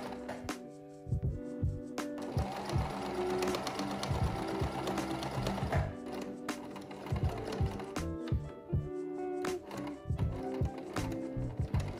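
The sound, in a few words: sewing machine stitching fabric onto an Adidas sweater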